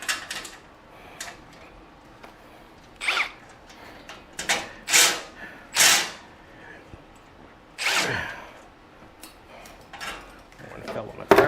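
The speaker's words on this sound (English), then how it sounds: "we put the bolts and the nuts already on there, so I have to take them off" Tight nuts being loosened from bolts on an American Queen BBQ grill by Moss Grills: scattered short metallic scrapes, clicks and ratcheting bursts, some sharp and close, with quiet gaps between them.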